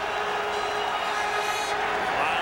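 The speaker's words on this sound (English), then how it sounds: "Wild crowd in Winnipeg." A big crowd roars without a break at a Canadian football game in Winnipeg, Blue Bombers hosting the Calgary Stampeders in 2003, a loud and dense sustained cheer that fills the whole moment.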